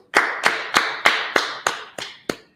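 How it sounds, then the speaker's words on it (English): Rhythmic group clapping, close and crisp: about nine evenly spaced, sharp claps in a steady beat with short silences between them and no talk. "All right, let's clap it up."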